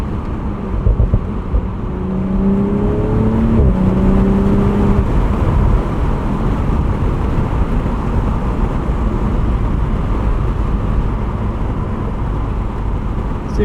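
BMW Z4 M40i driving at speed, a steady, loud engine drone and road roar filling the cabin, with a brief rising engine note early on before settling into an even cruise.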